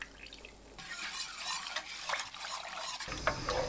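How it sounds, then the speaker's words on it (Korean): A spoon scrapes and swirls through glutinous rice flour and water porridge boiling over high heat, a steady wet stirring with soft bubbling and occasional pot clatter, close and unaccompanied. "센 불로 저어가면서 끓입니다."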